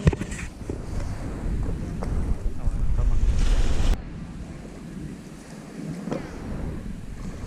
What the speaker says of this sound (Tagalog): ngayon na ang alon.